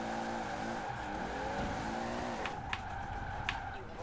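A Toyota Supra slides while drifting in fifth gear in Forza Horizon 4, its steady engine drone carrying a long tire scrub, followed by a few sharp squeaks near the end, heard without talk.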